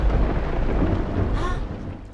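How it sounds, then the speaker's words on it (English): A nighttime storm of heavy rain and low, rolling thunder fills the scene, a dense steady rumble with no voices. "And it's raining."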